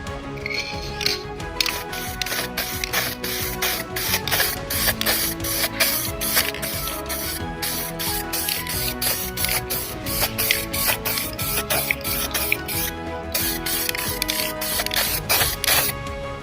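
An aerosol can sprays matte paint onto a plastic center console from a Fiat Stilo Abarth, heard as rapid repeated hisses and clicks close to the microphone, with no talking.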